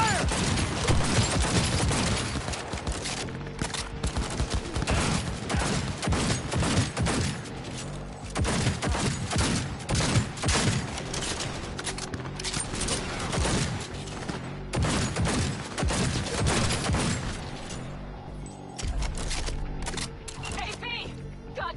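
Volleys of rifle and automatic gunfire ring out in a video game battle with heavy casualties, dense repeated bursts of shots running nearly throughout, loud and close, with shouting voices mixed in.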